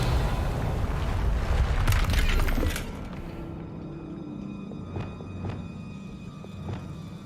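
A Confringo blasting spell from Hogwarts Legacy goes off as a loud, rumbling boom filling the first few seconds, then drops away to quieter debris clatter and a few short sharp taps.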